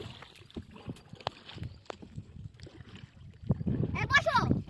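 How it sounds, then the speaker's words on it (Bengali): Wooden oars dip and pull through still pond water as a rowboat moves, giving faint irregular splashes and knocks, with people talking nearby toward the end. "দুই দুইজনের বৈঠা চালাও"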